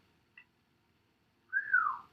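A single faint, short whistle gliding downward, with a tiny chirp before it, in an otherwise quiet room.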